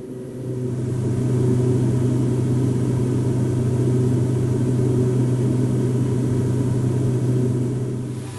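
Twin turboprop engines of a Beechcraft 1900D in the X-Plane flight simulator produce a steady, loud low drone with a constant hum, fading in and holding evenly throughout.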